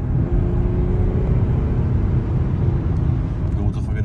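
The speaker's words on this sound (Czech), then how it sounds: "Ukážu nějaký rychlejší rozjezdy, dám plnej tady odsaď." An Audi A6 pulls away at full throttle with a loud, steady engine rumble and rising drone filling the cabin, continuous for a few seconds with faint background noise.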